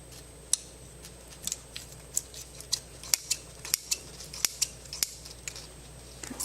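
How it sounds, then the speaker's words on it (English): Sausage being sliced into small rounds, a series of crisp, evenly spaced cutting clicks, about two per second, close up over a quiet background with no talking. "now I'm going to cut the sausage up in little circles."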